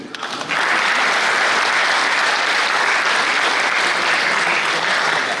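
Sustained audience applause at a public talk, with dense, even clapping that starts after a brief moment and then holds steady and loud to the end.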